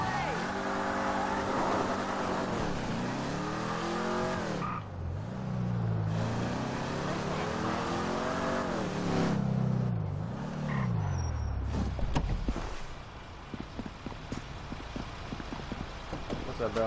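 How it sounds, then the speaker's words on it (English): In Grand Theft Auto 5 on PS4, a garbage truck's engine drones and revs in rising and falling pitch sweeps as it drives, then gives way to rougher, clattering road noise. "I gotta steal the garbage truck."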